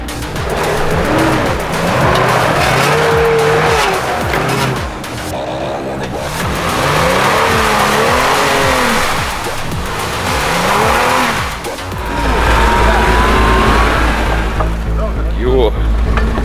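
Tank 300 SUV engine revving loudly off-road, with rising and falling engine tones and tire noise, and people talking over it throughout.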